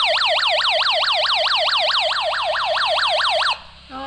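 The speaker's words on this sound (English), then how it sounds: "Alarm. Alarm." A survival radio sounds its alarm siren, a loud, rapidly warbling electronic wail that repeats steadily for several seconds and then cuts off abruptly.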